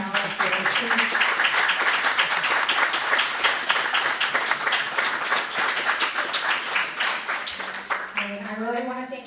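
A large audience gives a sustained round of applause for the panelists at a small-business event, dense clapping filling the room for several seconds before fading out as a voice starts speaking at the end.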